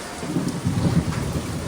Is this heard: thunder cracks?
yes